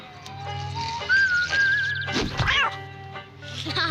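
A cat meows in drawn-out, whistle-like cries, several rising and falling calls over a low background hum, close and fairly loud.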